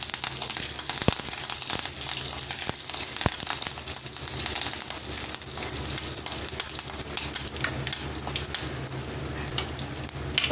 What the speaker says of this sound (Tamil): இப்போ நல்லா தாளிச்சாச்சு.